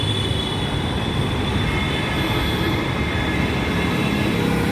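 A Kolkata metro train runs at Hemanta Kumar Mukhopadhyay station with a loud, steady rumble and wheel roar, a faint high squeal over it, and no pauses throughout.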